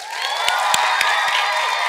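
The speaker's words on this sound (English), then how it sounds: "Round of applause, please" Steady applause and cheering from a crowd, with a few sharper claps standing out from the dense wash of sound.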